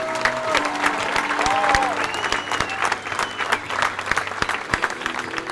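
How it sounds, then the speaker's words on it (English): A crowd applauds the youth baseball teams at a Cal Ripken tournament opening ceremony in Pigeon Forge, clapping rising and falling with whistles and voices mixed in. "Let's give one more big round of applause for all of our teams here this"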